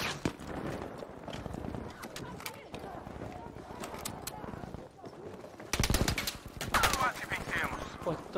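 Bursts of rapid gunfire in Battlefield V crackle in quick succession, fairly close, with a louder volley near the end.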